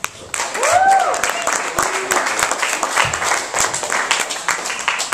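A comedy audience claps for a stand-up comedian, a sustained round of applause with a few whoops and cheers rising near the start.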